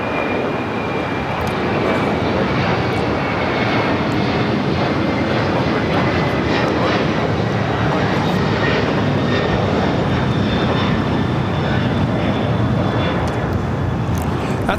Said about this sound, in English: That's FedEx 1234 taking off to Memphis on a 767 named Rico.